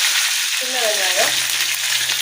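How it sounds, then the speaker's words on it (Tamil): Small onions frying in groundnut oil, a steady loud sizzle close up with a brief stirring scrape midway. "சின்ன வெங்காயம் கொஞ்சம் வதங்கட்டும்."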